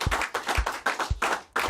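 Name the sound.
audience applause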